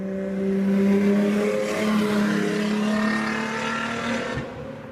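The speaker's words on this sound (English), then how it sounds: "No messing about, quick stab at the brakes and back on the throttle." Race car on a track at a retro car gathering, engine note rising and falling as it brakes hard and gets back on the throttle, a loud sustained roar close by with a dip before it pulls away.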